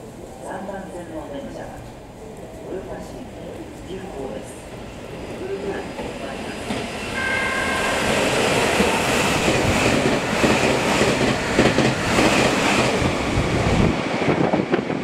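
A Meitetsu electric train passes nonstop through Kō Station on the Nagoya Main Line, its roar building and then holding loud and close, with a Japanese platform announcement heard early on.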